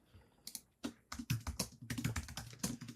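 Rapid typing on a computer keyboard while entering a company name into an online portal form, with bursts of close, crisp key clicks and no talking.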